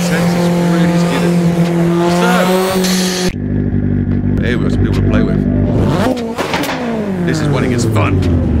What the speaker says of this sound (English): so you can see how intense it's really skidding